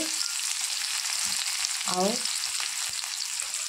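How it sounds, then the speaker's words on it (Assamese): Steady crackling sizzle of onion, ginger and garlic frying in hot oil, close and continuous, with a brief clink of a utensil stirring the pan. "ভালদৰে ভাজি লওঁ।"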